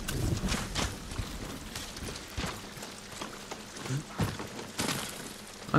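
Hooves of a horse in Ghost of Tsushima clopping on the ground in an irregular sequence of thuds, close and moderately loud, with light background game sound.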